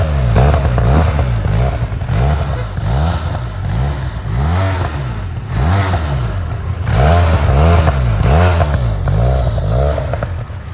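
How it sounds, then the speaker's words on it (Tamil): Benelli TRK 502 adventure tourer motorcycle with an underbelly exhaust revs repeatedly, loud and close, each throttle blip rising and falling in a rhythmic series of roaring swells with no talk. "ஸோ இதோடைய எக்ஸாஸ்ட் நோட் இப்போ கேட்கலாம்."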